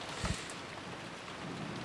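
Rain sound effect from the visual novel game Umineko: When They Cry, a steady broadband hiss of falling rain with a brief brighter splash early on, heard alone at low level.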